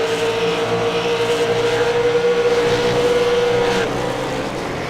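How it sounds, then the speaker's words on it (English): A V8 Supercar race car screams along a flying lap at Phillip Island, a loud, sustained high-revving engine tone holding steady before dropping slightly near the end, close and continuous. "So Sean, crossing the start-finish line, began his first flying lap."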